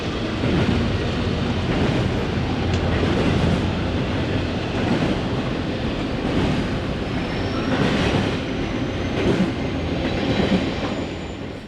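CSX freight train passing with a Chessie Heritage locomotive, unit 6914, a loud continuous roll of wheels with clickety-clack rhythm and occasional squeal, close by and unbroken throughout.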